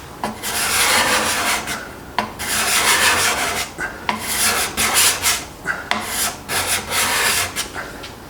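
A hand scraper drawn across wood, lifting shavings in a series of rasping strokes, each a short scratchy burst separated by brief pauses, close and steady in rhythm.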